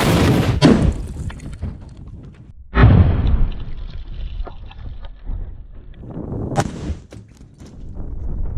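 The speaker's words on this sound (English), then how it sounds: "It's a 17-pound projectile, no big deal." A tank gun fires a 17-pound projectile at heavy safes, producing a huge blast followed by another deep boom and rumbling echoes, with wind noise and some distant impact thuds.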